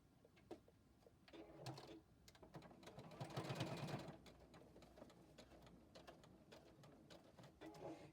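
JUKI sewing machine running a straight stitch through several fabric layers on a storage roll-up project, a faint, close, rhythmic mechanical whirr and needle patter that swells briefly in the middle with a faster run of stitching.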